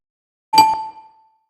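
A single bright notification bell dings once, ringing out clearly and decaying over about a second with no other sound around it.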